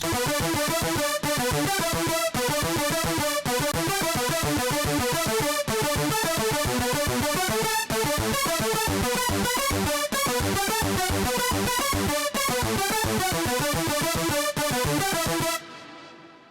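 A bright, thick supersaw synthesizer patch plays a rhythmic chord sequence with steady pulsing hits, loud and continuous, then stops abruptly near the end.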